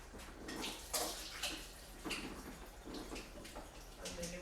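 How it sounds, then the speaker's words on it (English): A strainer is rinsed under a running kitchen tap, with water splashing and clattering faintly in irregular bursts while someone talks quietly nearby. "Rinse it out in there, Kevin."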